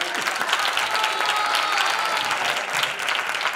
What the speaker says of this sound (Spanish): Un aplauso para Merchanda, por favor.